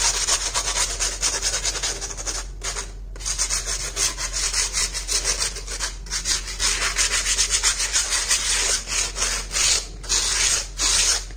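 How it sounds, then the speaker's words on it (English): Sandpaper is rubbed by hand over a textured wall clock face, a steady scratchy back-and-forth sanding in short repeated strokes with brief pauses, close and moderately loud. "Now we'll take a sandpaper and lightly sand it off so that any uneven area is sanded."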